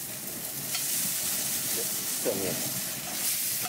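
Filet mignon searing in a cast-iron pan gives a soft continuous sizzle and hiss, with a brief voice partway through.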